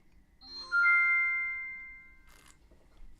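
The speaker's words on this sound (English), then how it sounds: "That must be my reminder to turn off the sound on my phone." A phone's bright electronic reminder ding chimes once, a clear sustained tone that rings out and slowly fades, with faint background rustle and a soft click near the end.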